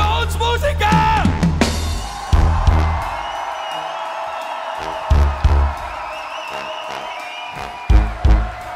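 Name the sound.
audience applause at a brass music concert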